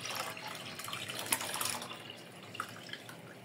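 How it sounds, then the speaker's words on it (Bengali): Fresh milk poured into a pot of jaggery syrup for pitha, a soft continuous splashing pour with a few drips, close and fairly quiet, no talk. "এই যে দুধগুলো দিয়ে দিচ্ছি সব।"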